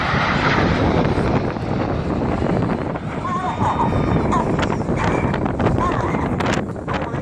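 Red Arrows jets roar loud and steady overhead at the Wales National Air Show, a continuous broad engine rumble mixed with wind buffeting on the microphone, with a commentator's voice running underneath.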